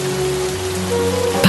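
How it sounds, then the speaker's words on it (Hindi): Steady rain falls on surfaces, a dense continuous patter with a faint tonal hum running underneath and no voices. "ये बारिश अचानक कहां से आ गई?"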